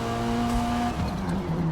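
Race car engine in Forza Motorsport droning at a steady high pitch, then dropping as the revs fall and shift, loud and close with no voices.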